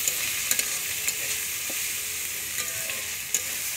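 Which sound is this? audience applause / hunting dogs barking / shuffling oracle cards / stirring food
stirring food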